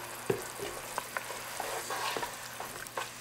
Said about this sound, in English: We're just gonna stir this.